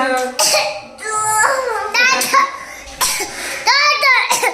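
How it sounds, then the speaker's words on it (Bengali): Coughing comes in several short bursts mixed with a voice, close and fairly loud. "বাবারে কাশছি"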